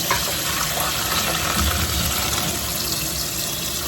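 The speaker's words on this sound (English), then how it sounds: "open your sink up and make sure cool water is already pouring out" Cool water runs from a kitchen sink tap in a steady, continuous rushing stream with no voices.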